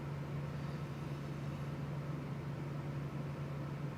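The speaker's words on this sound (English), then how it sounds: "There is a fan on. It's my AC." An air conditioner fan runs indoors as a faint, steady background hum with a constant low drone and soft broadband air noise, unchanging throughout and with no other sounds.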